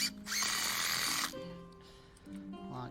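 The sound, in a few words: screws being driven into timber posts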